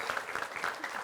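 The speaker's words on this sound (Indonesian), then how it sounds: "kita kasih tepuk tangan dulu" A studio audience at a comedy game show claps briefly, a quick burst of many hands with a few sharper claps popping through, moderately loud and close.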